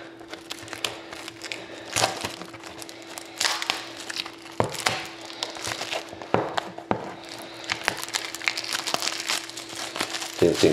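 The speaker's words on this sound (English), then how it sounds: "Didn't think plastic would be so hard to take off" Plastic wrapping is pulled off a box of 2012-13 Upper Deck The Cup hockey cards. Close crinkling and crackling comes in uneven bursts over a steady low hum, with no speech.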